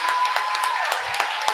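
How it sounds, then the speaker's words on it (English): Students receive applause from an education festival audience: scattered, light hand claps in an uneven rhythm, fairly thin and brief. "please help me give a round of applause to all of our students"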